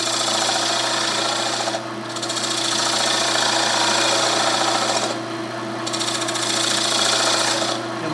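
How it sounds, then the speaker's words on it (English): A wood lathe spins a segmented bowl while a tool cuts away its tenon, a loud continuous buzzing rasp with brief pauses about every three seconds as the tool lifts off the wood. "We're going to just slowly start whittling away this tenon here."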